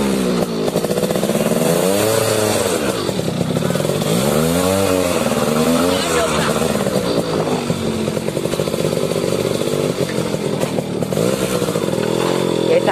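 A modified Yamaha RXZ two-stroke motorcycle pulling away in the rain, its engine loud and close with a raspy, buzzing tone that rises and falls through several revs and gear changes; a voice is faintly heard beneath it.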